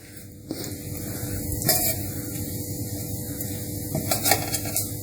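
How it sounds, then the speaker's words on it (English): Spices stirred in hot mustard oil while cooking mochar ghanto, a Bengali banana-flower dish, with a steady close sizzle and scattered scraping clinks of a spoon against the pan, no voices. "Then I will with the mustard oil, I'll just stir it."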